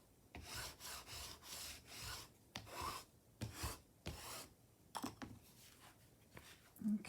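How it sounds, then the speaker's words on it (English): Scrapbook paper is burnished by hand in a run of quick, dry rubbing strokes, about a dozen close scrapes in an uneven rhythm, fairly quiet and with no talking. "So I'm going to go ahead and give that a good burnish."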